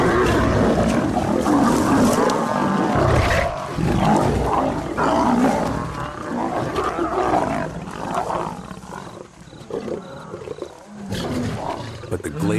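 Lionesses of the Nja pride on Kilimanjaro savagely attack a young Baobab lioness, filling the air with close, loud, overlapping roars, snarls and growls that surge and ebb continuously throughout.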